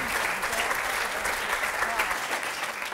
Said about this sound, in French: On peut applaudir Philippe Gueluc.